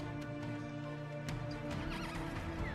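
In a video game trailer, a horse gives a loud, close, harmonic neigh over a rhythmic clip-clop of hooves, set against a layered musical backdrop. No one speaks.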